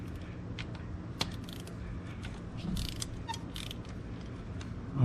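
A ratchet works loose a spark plug deep in the coil well of a 2006 Dodge Ram 1500, giving quiet clicking and mechanical creaks with one sharp tick, close and faint.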